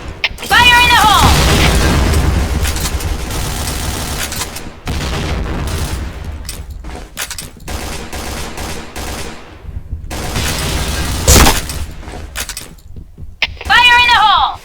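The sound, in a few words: grenade explosions in a video game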